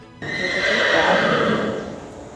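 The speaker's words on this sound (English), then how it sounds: "Lucia Lombardi guides her horse to stand next to her" A horse at a therapeutic riding program in Milton, Delaware gives a loud, close whinny that rises suddenly and holds as a long quavering call for about two seconds before trailing off.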